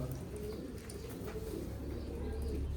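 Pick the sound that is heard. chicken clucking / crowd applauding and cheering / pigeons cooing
pigeons cooing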